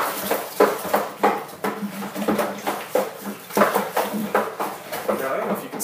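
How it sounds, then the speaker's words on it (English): Dry malt extract being stirred in a metal pot for a Coopers Mexican Cerveza home brew, a spoon scraping and clinking against the pot in a quick steady rhythm, with someone talking over it. "you really got to make sure that you stir it really, really good and break up all those little chunks"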